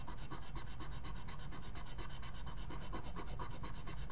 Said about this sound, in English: just keep rubbing at it